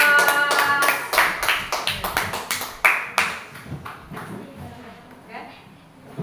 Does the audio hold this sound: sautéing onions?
no